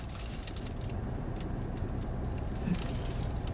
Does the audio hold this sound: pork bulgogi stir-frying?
no